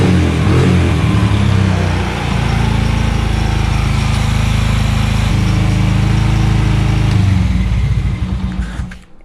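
A Honda TRX90 ATV's small single-cylinder engine idles steadily and close by after a carburetor adjustment, a loud, even putter with no talk, cutting out near the end.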